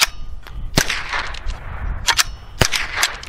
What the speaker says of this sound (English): Look, it's a single shot.